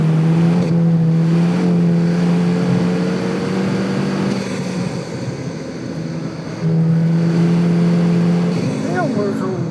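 Volkswagen Golf GTI engine pulls hard on a track hot lap, a loud steady drone climbing in pitch through the gears, with a brief lift mid-clip, and the driver talking over it.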